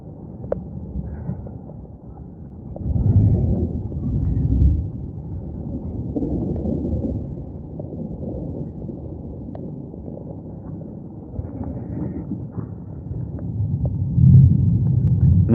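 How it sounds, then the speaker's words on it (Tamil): Thunder from lightning strikes near the Vijayalaya Choleeswaram temple at Narthamalai rolls as a deep, muffled rumble that swells and fades over several seconds, steady and fairly loud. "மின்னல் அடிக்கிறது அது மேலே விழுகிறது தெரியுதா உங்களுக்கு"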